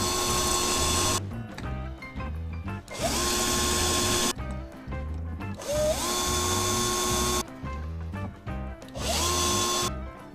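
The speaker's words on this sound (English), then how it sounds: "Brand new drill bit, let's see if this works now." A drill fitted with a brand new bit grinds into a rusted bolt on an old Lotus Elan, running in four loud bursts of a few seconds each, its whine rising in pitch as each burst starts, with short pauses between.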